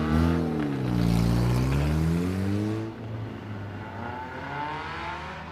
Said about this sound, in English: Heat race number 3 pulling out onto the track